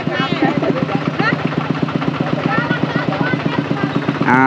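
Motorcycles in a wedding procession in Laos, with bride and groom riding, chug in a steady rhythmic idle close by while people talk over the engine noise.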